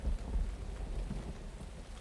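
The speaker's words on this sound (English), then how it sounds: "And it's raining now." Steady rainfall with a low thunder rumble in the video game Uru, a continuous dense wash of rain with no distinct crack, heard alone without talk.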